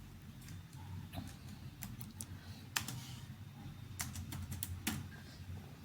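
A serial number being typed into a text box in MS Word on a computer keyboard: irregular bursts of crisp key clicks, moderately close, over a low steady background hum, with nobody talking.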